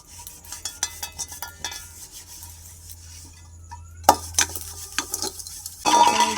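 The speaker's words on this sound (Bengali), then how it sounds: "এখন ছোটো গামলাটা মাজব" A small brass bowl being scrubbed by hand: gritty rubbing and scraping strokes in uneven bursts, with metallic clinks and rings growing louder toward the end, close up and without voices.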